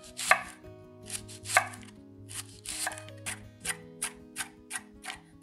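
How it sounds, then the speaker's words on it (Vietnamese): A knife rapidly chops scallions on a cutting board, with bursts of quick taps separated by brief pauses, close and clear with no talking. "đầu hành lá này khi mà mình băm ra"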